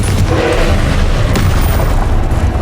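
A Confringo fire-blast spell explodes in the Hogwarts Legacy video game, a loud, dense booming burst that sustains its roar through the whole moment.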